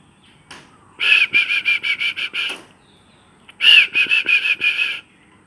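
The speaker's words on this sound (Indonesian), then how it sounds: "Itu adalah burung perkutut" Wild zebra dove (perkutut) calling in a park, two clear bursts of rapid cooing notes, each a run of about seven pulses, fairly close and alone.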